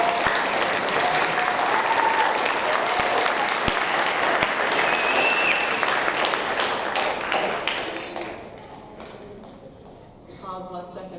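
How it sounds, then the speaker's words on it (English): Large audience at an 8th grade awards ceremony giving students a loud, sustained round of applause that fades out near the end, followed by a voice talking. "let's give them another round of applause"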